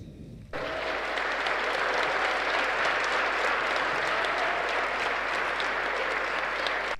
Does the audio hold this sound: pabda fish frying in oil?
no